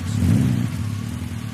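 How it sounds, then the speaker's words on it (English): Motorcycle engines roaring, a loud, close burst of low rumbling revs that swells in the first half second and then settles into a steady growl. "there was a roar of motorcycle engines"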